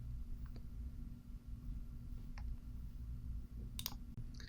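A few faint, brief mouse clicks in a software interface, sparse and isolated over a low steady hum, with no talking.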